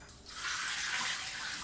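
Water runs steadily from a tap as a utensil or bowl is rinsed after mixing batter, a continuous close hiss with no talking.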